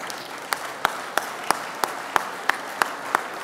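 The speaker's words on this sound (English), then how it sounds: "Give them a big applause" Audience applause at a formal dinner gala, a steady wash of many hands clapping with a few sharp, louder claps standing out at regular intervals, no voices.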